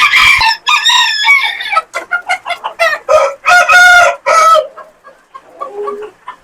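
Cochin chickens and a rooster at a poultry farm call loudly and close by, a string of crowing and clucking bursts that fades toward the end.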